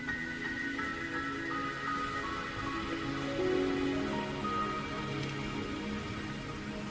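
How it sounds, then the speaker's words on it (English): Constant rain hiss in the video game Wuthering Waves, pattering steadily, with soft sustained musical tones underneath throughout. "Don't worry, the rain won't last much longer."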